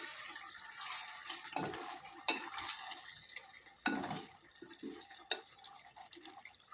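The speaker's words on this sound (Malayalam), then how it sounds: "തുറന്ന് നോക്കുമ്പോൾ തന്നെ തിളച്ച് വരുന്നുണ്ട്." A home-style chicken curry bubbles in a pot, giving quiet, sporadic pops and gurgles with faint stirring in between and no voices.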